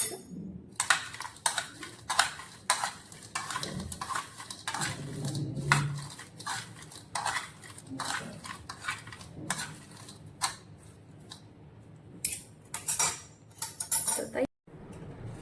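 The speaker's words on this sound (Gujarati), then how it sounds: "થોડો ગરમ મસાલો નાખીશું. હવે મિક્સ કરી દઈશું." French fries being tossed with garam masala in a metal bowl: repeated sharp clinks and scraping rattles come in irregular bursts, loud and close, with brief pauses between strokes.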